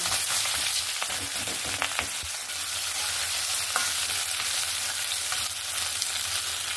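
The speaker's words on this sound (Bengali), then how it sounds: "কড়াইতে 2 মিনিটের মতন একটু নাড়াচাড়া করে আর একটু ভালো করে ভেজে নেব।" Fish heads sizzle in a hot wok while a utensil scrapes and knocks against the metal at irregular intervals.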